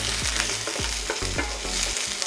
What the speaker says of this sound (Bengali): চপ গার্লিক, দেব চপড অনিয়ন, দিয়ে ভালো করে এটাকে ফ্রাই করে নেব